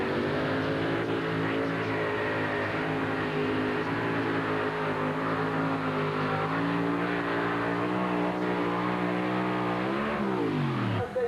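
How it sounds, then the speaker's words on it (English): A 1934 Ford delivery van, run as a two-wheel-drive truck-pull entry, roars loudly and continuously throughout, its engine note climbing and straining under heavy load before dropping off sharply near the end. "1934 Ford delivery van. A sweet-looking machine, sponsored by Miller High Life."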